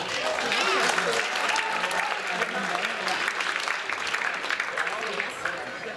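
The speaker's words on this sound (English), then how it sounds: "you can clap." A school auditorium audience applauds at the opening of a writers' week, with steady, dense clapping from a large crowd sustained throughout, mixed with some voices.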